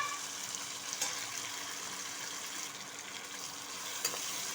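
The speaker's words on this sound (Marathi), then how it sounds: "इथे मी कांदा टोमॅटो ऑलरेडी भाजत ठेवला आहे" A small onion and a tomato fry in a pan with a soft, steady sizzle and occasional faint stirring taps, close and moderately quiet, with no voices.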